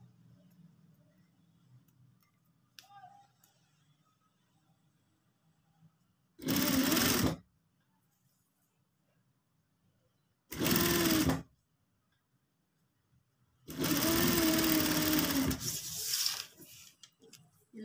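Sewing machine stitching a sleeve onto a chiffon shirt with a double seam, running in three short bursts of roughly one to two seconds each, separated by quiet pauses, loud and close.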